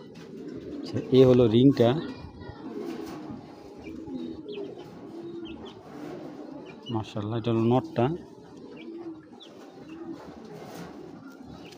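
Black-winged pigeons coo softly and repeatedly in the background, with two brief louder bursts of cooing, while someone talks over them close by.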